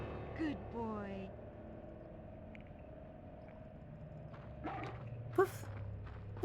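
Hewie the dog from the video game Haunting Ground barks in a few short, sharp bursts over steady game ambience, the later barks louder and closer, with a person talking between them.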